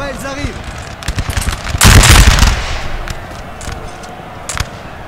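Crackling musket volleys ring out in a Napoleon: Total War multiplayer battle on a mountain map, with a dense burst of firing near the middle and scattered shots before and after, under a narrating voice.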